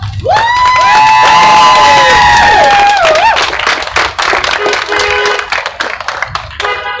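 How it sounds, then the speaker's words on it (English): A loud crowd claps and cheers, with sustained whistles and shouts over dense applause that thins into scattered claps toward the end. "Give yourselves a round of applause for coming out."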